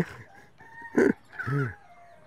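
Rare breed chickens cluck and call close by, with a short rooster-like crow and a loud squawk rising above a quiet background.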